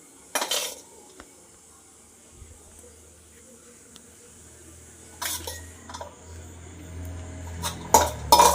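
A spoon places filling, with a few sharp metallic clinks of cutlery against dishes spread through a mostly quiet stretch.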